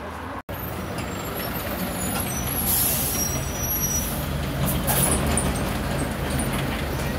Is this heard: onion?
no